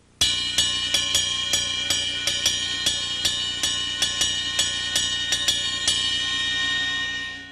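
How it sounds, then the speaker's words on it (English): A steady Latin mambo cowbell pattern of sharp metallic strikes over a sustained cymbal wash and drum kit, even and driving throughout, with no voices. "I'm going to play a Latin mambo cowbell pattern,"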